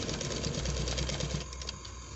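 A sewing machine runs steadily on black fabric, laying a double line of stitching with a fast, even mechanical chatter that stays close and fairly loud throughout.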